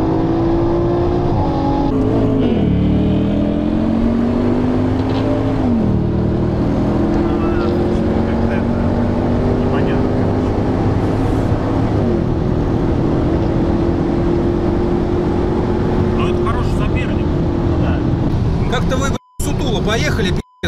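Sports cars, including a Porsche Panamera Turbo and an Audi RS5, accelerate hard in a roll race from 80 km/h, heard as a loud rising engine note inside the car that climbs steadily with a gear-change dip before cutting off.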